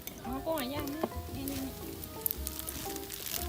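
Faint crackling sizzle of pork frying on a tabletop grill, with background chatter and music in a busy outdoor setting in Chiang Mai.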